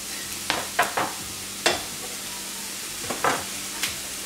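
Garlic and bell peppers stirred in a dry pan without oil, a low steady sizzle broken by several sharp scrapes and clinks of the utensil against the pan.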